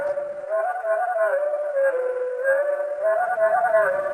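Veery song slowed down, a continuous low, wavering whistle-like tone with rich overtones, smooth and steady at moderate loudness.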